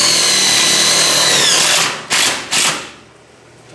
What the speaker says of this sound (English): Then you'll take one of the provided washers and another self-tapper.